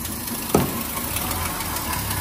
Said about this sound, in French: Un léger cliquetis.